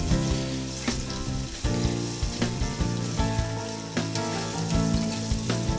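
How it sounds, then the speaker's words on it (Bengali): Ginger and onion paste frying in a pan for a Bengali fish curry, a steady loud sizzle with rhythmic stirring scrapes throughout, no speech. "ভালোভাবে ভেজে দিয়ে দিব আধা চামচ আদা বাটা, এক চামচ পেঁয়াজ বাটা"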